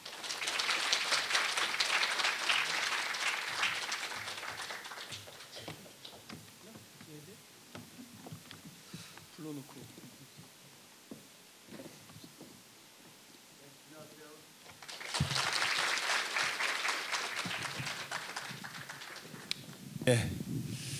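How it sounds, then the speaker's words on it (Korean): Audience applause welcoming a guest lecturer at a Korea University KU-KIST 2018 entrance ceremony, a loud broad burst at the start that fades into quieter crowd murmur, then a second strong round of clapping swells near the end. "뜨거운 박수로 환영해 주십시오"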